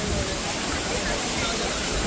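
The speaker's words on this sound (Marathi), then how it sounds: "आणि हा पूर्ण धबधबा आहे" Savatsada waterfall at Raghuveer Ghat roaring as a steady, dense broadband rush of falling water, close and continuous with no breaks.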